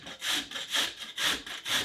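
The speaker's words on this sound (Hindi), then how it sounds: "अब हम मीडियम छेद वाले ग्रेटर से मूली को कस लेते हैं।" Radish being grated on a medium-hole grater, four rhythmic rasping strokes in a steady back-and-forth pattern, close and moderately loud with no talking.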